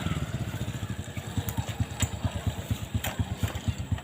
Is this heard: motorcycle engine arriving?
yes